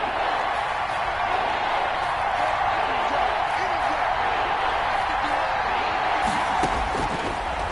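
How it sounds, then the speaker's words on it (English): Stadium crowd at a football game before a big third down, a continuous loud roar of cheering and noise filling the whole stretch without clear breaks. "the crowd getting into it as we come up on a big third down"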